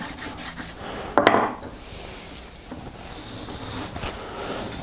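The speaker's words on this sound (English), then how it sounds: "I use the back side of the knife here, and scrape it off and reapply it" Back of a whittling knife blade scraping buildup off a leather strop, one short rough scrape burst near the start followed by quieter faint rubbing, close up, no talk.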